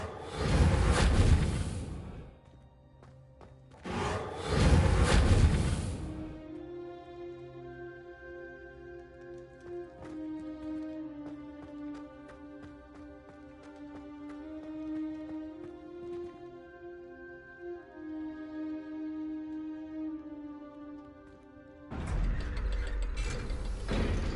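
Reparo repair spell in a Hogwarts video game: a sustained stretch of clicking, ratcheting gear-and-pulley mechanism sounds with tonal ringing, framed by bursts of whooshing magic at the start and end.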